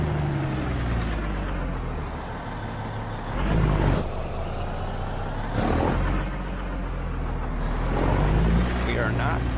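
Heavy truck in a driving video game, played with a Logitech G923 wheel, a steady low engine drone with periodic loud hissing air-brake bursts, under talk.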